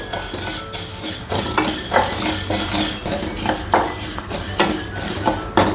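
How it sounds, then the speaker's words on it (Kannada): Urad dal roasts in a metal pan, with a continuous dry rattle and clinking of lentils and a stirring utensil scraping against the pan, fairly close and steady throughout. "ಈಗ ನಾನು ಉದ್ದಿನಬೇಳೆ ಹಾಕೋತಾ ಇದ್ದೀನಿ."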